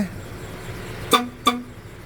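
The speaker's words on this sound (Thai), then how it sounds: "โอ้แตรอะไรอย่างงี้" A car horn gives two short, sharp honks about a third of a second apart, loud and close over a quiet background.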